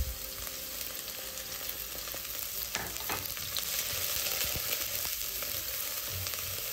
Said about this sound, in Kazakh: Сұйық майымызды қыздырып барып, пиязымызды салып қуырып аламыз.